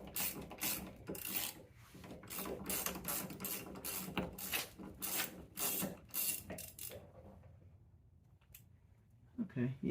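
A ratchet wrench clicks in quick repeated bursts while a bolt is loosened from a Jeep side step mount, close and fairly quiet, with someone talking intermittently over the mechanical ratcheting.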